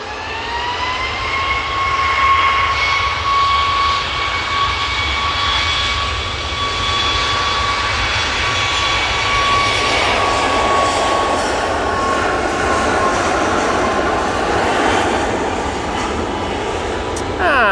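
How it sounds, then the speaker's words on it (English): An EasyJet airliner from Belfast touching down at Manchester Airport gives a loud, sustained engine roar with whining tones, rolling on steadily throughout. "Easyjet from Belfast just now touching down"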